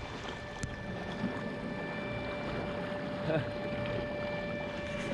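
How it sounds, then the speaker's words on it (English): A stuck boat horn drones a steady, sustained tone without pause in the distance, over wind and engine-like rumble. "the horn got stuck. So now it's just blaring."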